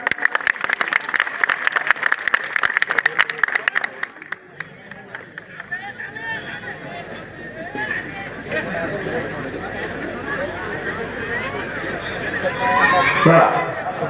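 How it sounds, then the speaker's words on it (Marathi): Clapping from spectators at a women's wrestling event, dense and fairly loud over the first four seconds, then fading into a busy outdoor crowd hubbub with voices talking. "टाळ्या तरी करा"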